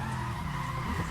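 BMW M3 drift car sliding sideways in the Assetto Corsa racing game, a loud continuous tire skid and squeal over steady engine drone, brief and close.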